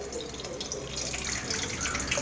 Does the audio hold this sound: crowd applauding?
no